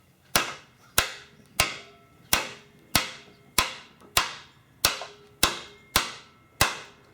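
A bat hammer strikes metal held on a wooden stump while flattening the end of a piece, twelve sharp ringing blows at a steady, even rhythm, close and loud, with no one speaking.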